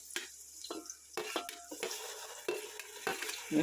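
Fish biryani masala being stirred in a pan makes a series of soft scrapes and spoon knocks against the metal over a faint sizzle, about six distinct strokes, close by.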